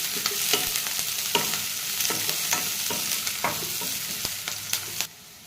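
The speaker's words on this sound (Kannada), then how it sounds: "ಈರುಳ್ಳಿ ಬೆಳ್ಳುಳ್ಳಿ ಕೆರೆಬೇವು ಸೊಪ್ಪು ಹಾಕಿ ಚೆನ್ನಾಗಿ ಫ್ರೈ ಮಾಡಿಕೊಳ್ಳಿ ಕಂದು ಬಣ್ಣ ಬರೋವರೆಗೂ ಚೆನ್ನಾಗಿ ಫ್ರೈ ಮಾಡ್ಕೋಬೇಕು" Onion, garlic and curry leaves frying in a pan for a brinjal dish: a loud close sizzle with a regular series of spatula scrapes and taps, cutting off abruptly near the end, no speech.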